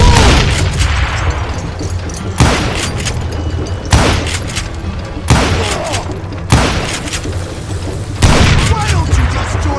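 Western-themed Call of Juarez: Gunslinger gameplay gunfire, with loud, booming shots and rumbling blasts every one to two seconds over dense action noise, mixed with character voices.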